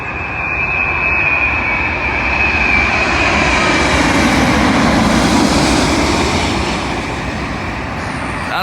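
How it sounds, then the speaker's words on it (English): A British Airways Boeing 787 Dreamliner from Bridgetown comes in to land on Heathrow runway 27L. Its jet engines give a loud, sustained roar that builds slightly and then eases near the end, with no voices. "Arriving in now is a British Airways Boeing 787 Dreamliner, also from Bridgetown, terminating here at Heathrow."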